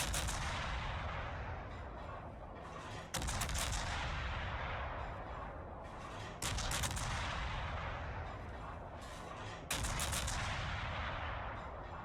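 Naval gun salvos from three Des Moines guns in War Thunder, a loud heavy roar with sharp bursts starting a new salvo roughly every three seconds, each decaying into rumbling noise.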